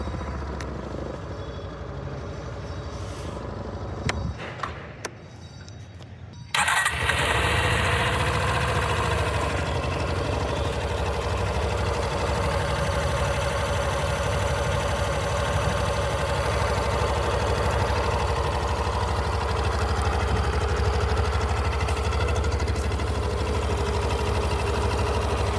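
A Suzuki Access scooter with an easy-start system fires up after a few seconds of quiet background, then settles into a steady, loud, close idle that runs unchanged to the end.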